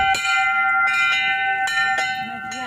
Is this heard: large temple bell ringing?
yes